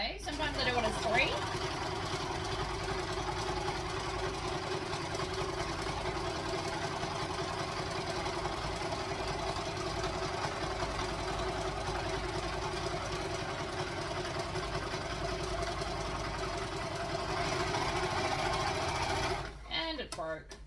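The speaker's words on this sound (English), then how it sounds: "So I've set up my overlocker over here. It's actually set up to 4 thread today." A four-thread overlocker serges the fabric sides of a library bag, a loud continuous motor whir and stitching hum running close for about nineteen seconds before stopping abruptly.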